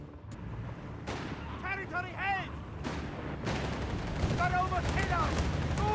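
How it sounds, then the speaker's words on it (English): Mortar and gunfire in a Company of Heroes 3 battle: loud booming impacts and sharp bursts of shots, with dense rattling fire building near the end, continuous and layered under a voice talking. "Mortar joining in the fun here."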